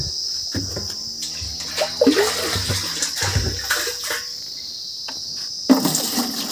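Water pours steadily from a tank in a continuous splashing rush, loud and close, with a high insect-like chirp running above it throughout.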